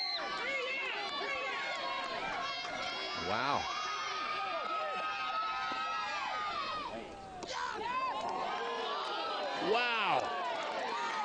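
A crowd at a high school Division 1 softball semifinal murmurs and reacts in the background while an announcer talks over it, with a brief swell of noise part way through.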